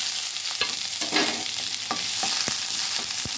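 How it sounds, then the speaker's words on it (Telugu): Onions frying in a pan with a steady loud sizzle, broken by several sharp stirring scrapes and taps of a spatula, close up and with no talking. "ఇప్పుడు ఆనియన్స్ వేసుకుంటున్నాను."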